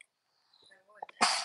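One sharp, loud sneeze bursts out at close range near the end, after a moment of near silence with a few faint breathy sounds.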